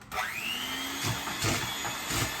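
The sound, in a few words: whisking eggs with sugar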